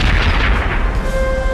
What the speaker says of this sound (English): Napoleon ordered a barrage of his most powerful cannon.